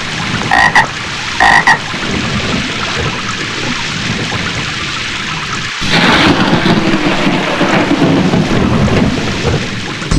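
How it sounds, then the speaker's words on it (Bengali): A cartoon thunderclap booms after a flash of lightning, a loud rolling rumble over steady rain, with a couple of short croaking bursts earlier in the scene. "বিদ্যুৎ ঝলকানির পরই কেন বজ্রপাত হয়?"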